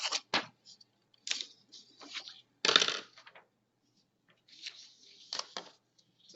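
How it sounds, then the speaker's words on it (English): Scissors snipping excess paper off a binder tab sheet, a few quiet crisp cuts in short bursts separated by near silence, close and faint. "Cut the excess paper off."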